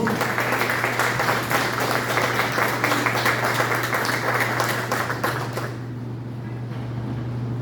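A church congregation applauds during a Sunday celebration service, with dense, steady clapping from a large group over a low hum, fading out after about six seconds.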